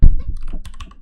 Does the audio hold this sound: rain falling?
no